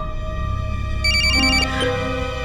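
A phone rings loudly and close, a bright electronic ringtone with repeating tonal chimes that layer and shift over a couple of seconds, heard alone.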